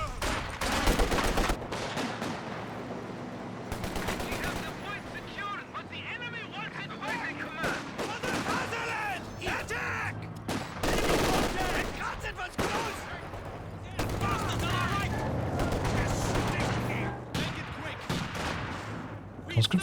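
Dense rattling machine-gun fire and explosions in the Company of Heroes 2 strategy game during a 2v2 match, loud and nearly continuous with short pauses, with a commentator talking over the battle.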